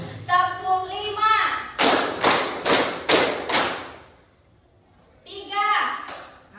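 High school students in a classroom clap five times together, an even, loud run of crisp group claps, with a teacher speaking just before and after.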